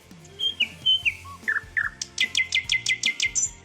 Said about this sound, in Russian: И самое главное, соловей славится своим пением. Давайте послушаем.